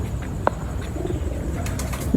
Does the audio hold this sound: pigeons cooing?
yes